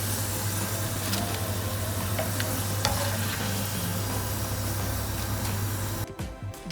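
French fries deep-frying in a pot of oil, a dense, even bubbling sizzle with faint clinks, close and steady until the fries are lifted out near the end and the sizzling suddenly drops away.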